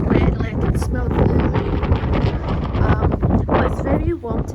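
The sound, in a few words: strong wind outdoors on a wet, gloomy day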